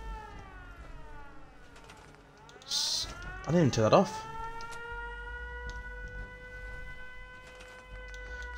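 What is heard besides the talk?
settlement siren in the video game Fallout 4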